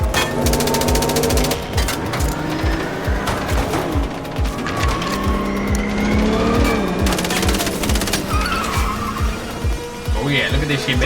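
Video game car engine revving and driving with repeated tire squeals and skids, loud and continuous, mixed with game music and scattered gunfire while someone talks over it.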